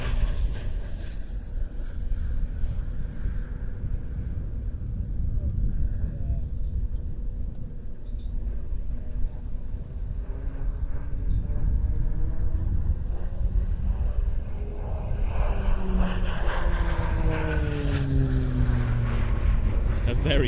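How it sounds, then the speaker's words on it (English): An aerobatic aircraft diving and pulling a tight turn at the Leszno airshow: a steady engine drone with a rising, shifting whine as it passes, under continuous commentary and some wind rumble. "the aircraft dives back down onto the show line for a maximum rate"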